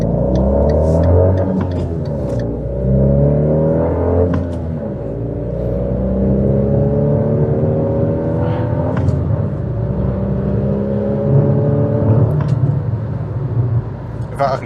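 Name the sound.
small two-cylinder car engine revving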